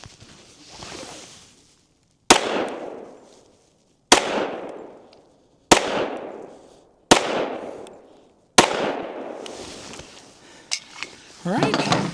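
A pistol fires 180 grain Buffalo Bore 10mm rounds outdoors in five sharp, loud shots spaced a second or two apart, each followed by a ringing decay, with faint talk nearby.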